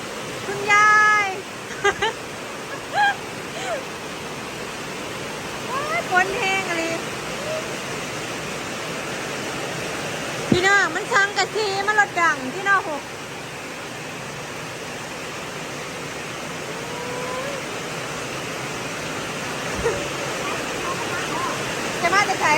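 Heavy storm rain pours steadily on a flooded street while a roadside shop is hurriedly packed away, a dense continuous wash of noise with voices breaking in now and then over it.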